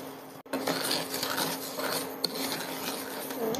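A spoon stirs semolina and sugar in a pan for suji halwa, producing a continuous gritty scraping and rasping with light metallic clinks, close and steady with no talk.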